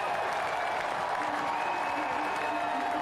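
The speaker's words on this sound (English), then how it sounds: "Delight from the crowd" A football stadium crowd at a USL League match between Portland Hearts of Pine and Greenville Triumph SC cheers and applauds after a goal, a dense, steady roar filling the whole stretch.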